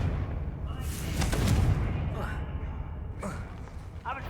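In the video game Hogwarts Legacy, a Confringo fire spell bursts with a deep booming explosion that rumbles on, followed by further crackling magical impacts, with voices talking over it.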